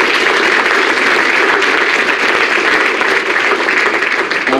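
Sustained applause fills a senior awards assembly for a college athletics program, a dense, steady wash of many hands clapping at even loudness throughout.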